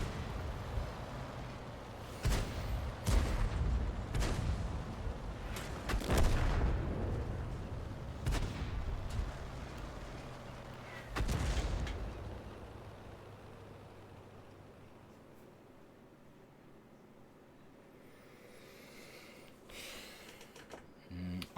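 Heavy tank cannon shots from World of Tanks, likely an IS-4, boom out in several loud separate blasts over the first twelve seconds, with engine rumble underneath before the scene quiets.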